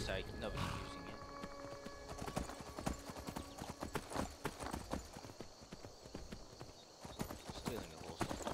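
Horse hooves clip-clopping in Skyrim, a steady rhythmic trot of sharp close hoofbeats with a brief whinny early on and someone talking over it.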